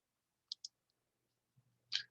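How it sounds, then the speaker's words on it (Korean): Computer mouse clicks during a spreadsheet chart-labeling lesson: two quick sharp clicks close together, a faint tick, then a louder click near the end, in a quiet room. "클릭."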